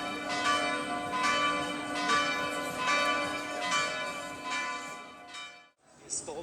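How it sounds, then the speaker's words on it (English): Church bells ringing in Zagreb, loud and close with repeated rhythmic strikes and a sustained ringing tone that cuts off near the end, followed by a brief noisy outdoor sound. "I'll leave you with the church bells ringing"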